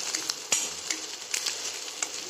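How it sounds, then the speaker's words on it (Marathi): Onion frying in a pan for a potato and toor dal preparation, giving a steady close sizzle with a few sharp crackles and stirring knocks, and no voices. "मऊ होईपर्यंत भाजायचा कांदा."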